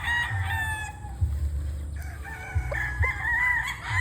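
A gamefowl rooster on a game farm crows nearby, one long rising crow followed by another strained call, over a low rumbling background hum.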